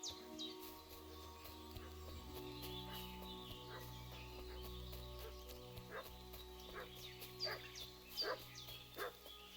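A dog in the medieval Bohemian world of Kingdom Come: Deliverance II barks repeatedly and yips over a low steady game ambience, the sharp barks clustered toward the end and heard at moderate distance.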